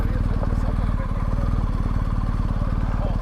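A BMW 1250GSA motorcycle engine idles along with no throttle, a steady low, rapid thumping pulse that holds close and even throughout, with a voice talking over it.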